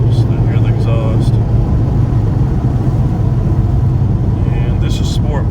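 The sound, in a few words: Ford Mustang GT exhaust idling in Sport Plus mode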